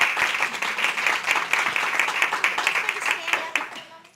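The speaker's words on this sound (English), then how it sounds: "give her a big applause" An audience claps for someone being thanked, a brisk, close burst of many hands that holds steady, then fades out at the end with faint voices mixed in.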